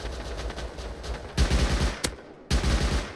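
Bursts of automatic gunfire crackle in a Rust match, dense rapid shots running continuously, pausing briefly after a sharp single crack, then resuming loud and close.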